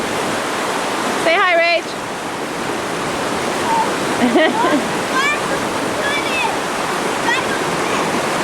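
Rushing flood water roars steadily at Camp Nauvoo, a loud broadband wash filling the whole clip while a person speaks briefly and birds chirp faintly over it.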